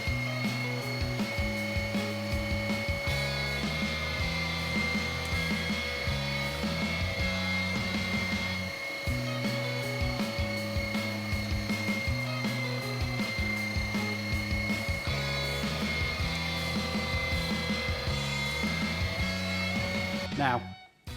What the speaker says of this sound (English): We've got the meat grinder.